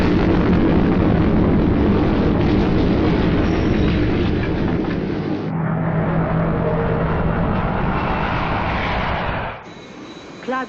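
A loud, sustained rumbling roar fills most of the clip, dense and continuous, then cuts away to quieter tones near the end.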